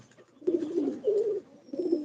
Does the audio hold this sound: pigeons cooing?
yes